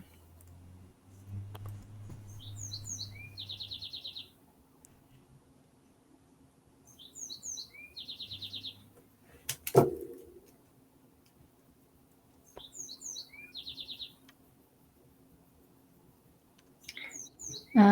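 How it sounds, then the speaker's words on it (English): Small birds chirp outside in short bursts of quick, high tweets, repeating every few seconds, fairly faint, with one sharp knock midway. "Now there's birds outside."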